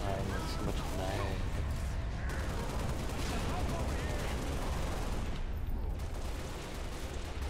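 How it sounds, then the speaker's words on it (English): Rapid machine gun fire rattles continuously through a dense Halo: Reach battle mix, loud and sustained, with a voice talking over it partway through. "God, I hate machine guns."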